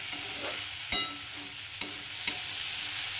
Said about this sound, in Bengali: এটাকে আমি এখন একটু ভাজা ভাজা করে নেব